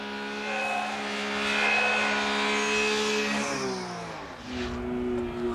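A 660cc kei car from 1990 driven flat out on a track, its engine note droning steadily, then shifting down in pitch and climbing again as revs change, heard alone without talk.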